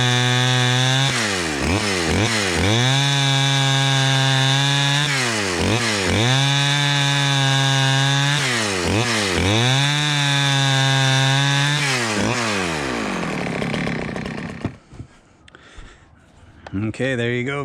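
A vintage Stihl 011 AV 41cc chainsaw running loud and close, its engine revving up and down in repeated surges for about twelve seconds before cutting off, with handling noise as it stops.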